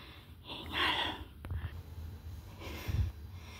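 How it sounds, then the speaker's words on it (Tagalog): Heavy, faint breathing with snorts and gasps after running to catch a bus at Geldern station in Germany, uneven breaths over low background rumble. "Hingal."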